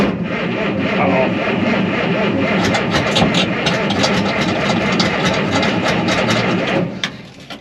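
A 1929 Ford Model A hot rod shop truck engine idling loud and close, a steady rough low rumble with rapid uneven firing pulses that fades slightly at the end.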